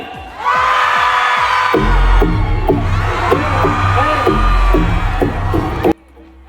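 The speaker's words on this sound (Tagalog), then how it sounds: "Kulang pa sa sigaw!" Loud festival crowd at an outdoor music festival in Cebu cheering, whooping and shouting continuously for several seconds, with bursts of screams over a dense roar before it cuts off abruptly.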